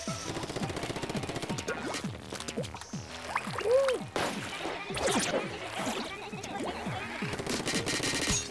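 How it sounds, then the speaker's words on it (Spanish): Rapid machine gun fire in Splatoon 2, quick repeated bursts mixed with splashy ink sounds and game effects. "¡Tengo una ametralladora!"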